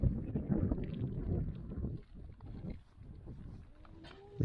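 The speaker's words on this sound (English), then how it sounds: "it's still blustery and windy" Strong blustery wind buffets an exposed fell outdoors, roaring and gusting loudly against the microphone before easing into lighter, uneven gusts.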